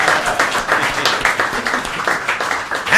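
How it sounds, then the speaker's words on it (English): A studio audience breaks into loud, sustained applause, many hands clapping close together in a thick, uneven wash that stays strong from start to finish. "Yeah, second round of applause."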